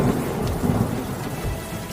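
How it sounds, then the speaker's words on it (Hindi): Heavy rain pours down in a continuous loud hiss over fields, with a low rolling rumble of thunder beneath it and no voices. "देखो कितनी जोर की बारिश हो रही है"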